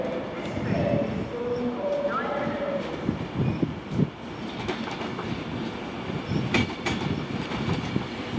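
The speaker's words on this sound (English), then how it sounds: "next train to arrive in is 1 Alpha 31 on a Manchester Piccadilly to London Euston service" An Avanti West Coast Class 390 Pendolino, unit 390 008, on a Manchester Piccadilly to London Euston service, pulls into a station with rolling wheel rumble and clatter under a public address announcement.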